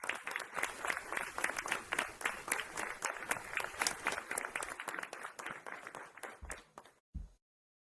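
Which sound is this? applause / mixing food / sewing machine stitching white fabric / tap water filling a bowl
applause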